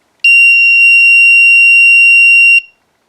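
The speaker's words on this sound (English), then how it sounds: "you should hear the buzzer go off and the LED come on" A buzzer on a homemade motion sensor sounds one steady, loud, shrill electronic tone for a little over two seconds, then cuts off, leaving silence.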